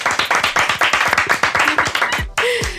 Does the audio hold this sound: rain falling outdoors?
no